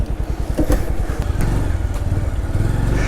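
Motorcycle carrying small children's school bags and a boy riding pillion pulls away on a hill village road, its engine a loud close throb with rhythmic pulses and rising revs throughout.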